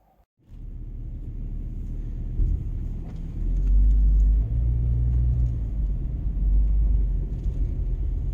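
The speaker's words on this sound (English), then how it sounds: "I am driving my kids' car, which coincidentally is the car that I had when I was 16 years old." A car driven on a rural road, a steady low engine and road rumble from inside the cabin that swells as it gathers speed and then holds constant, with no one talking.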